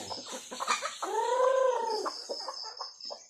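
Farm chickens in Baguio City cluck and call close by; one drawn-out, tonal crowing or squawking call stands out in the middle, with scattered shorter clucks before and after and no talking.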